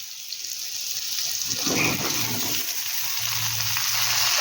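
Ridge gourd and eggplant fry with mixed vegetables in a pan, giving a steady close sizzle throughout with a brief louder burst of stirring near the middle.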